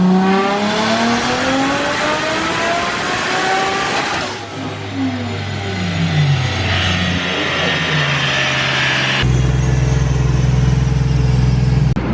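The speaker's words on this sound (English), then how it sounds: "I'm gonna keep walking away so you guys can get an idea of how loud this car is" A Nissan Skyline roars on a dyno in hot weather, its engine revving through a loud sustained pull with rising harmonics, then shifting to a lower steady drone that stays loud as the listener moves away.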